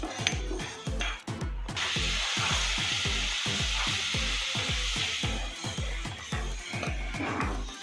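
Tempering for Bengali-style moong dal frying in a pan, a continuous hiss of sizzling oil over a rapid, regular series of scraping stirring strokes, close and fairly loud.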